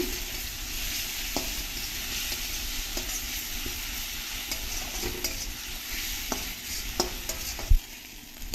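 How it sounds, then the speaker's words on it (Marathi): A whole bulb of garlic and two hot green chillies sauté in a pan, giving a continuous moderate sizzle broken by scattered scraping and tapping as a spoon stirs, with one louder knock near the end. "एक लसणाचा गाठा आणि दोन हिरव्या तिखट मिरच्या घातल्या आहेत यांना छान परतून घेऊया"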